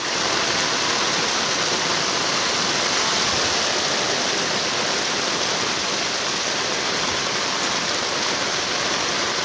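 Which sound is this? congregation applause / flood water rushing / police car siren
flood water rushing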